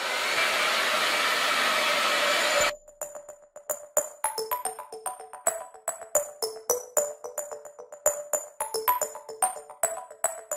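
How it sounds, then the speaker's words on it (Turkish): Handheld hair dryer blowing on freshly washed hair, a loud steady airy roar for under three seconds that cuts off abruptly, followed by scattered light clicks and taps of product bottles and handling nearby. "Şimdi saçımı kurutacağım ama öyle tamamen kuru şekilde değil, böyle hafif nemli kalacak şekilde kurutacağım."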